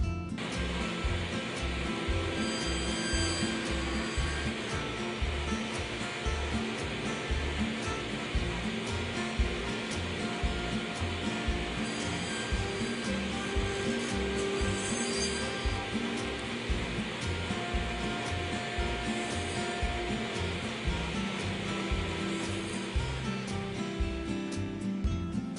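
A table saw cuts a rabbet with a crosscut bar and rip fence, making repeated passes. Its steady whine holds throughout with a regular pulsing rhythm underneath, loud and close.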